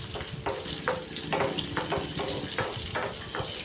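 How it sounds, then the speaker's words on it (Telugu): Green chillies and cabbage frying in a pan for cabbage chutney, a steady close sizzle broken by repeated scraping stirs of a spatula, with no talking. "ఇలా పచ్చిమిరపకాయ లైట్గా ఫ్రై అయ్యేటప్పుడు మనం క్యాబేజ్ని కూడా ఇందులో వేసేసుకోవాలి."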